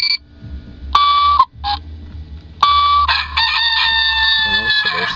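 A Tectron talking alarm clock plays a shrill rooster-crow alarm sound, repeated in bursts with brief gaps, then a longer warbling electronic melody.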